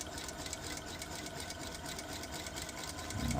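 A sewing machine runs a short back stitch across a bucket hat, its rapid needle chatter steady and close for a few seconds, with a slight rise in level at the very end.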